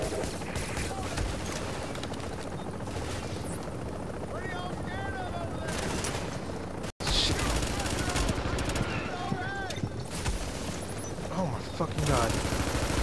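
Dense, sustained gunfire in The Division's Dark Zone, with a gun turret firing in rapid bursts among other weapons and a loud, chaotic battle mix. There is a brief cut partway through, and a voice talks over the shooting.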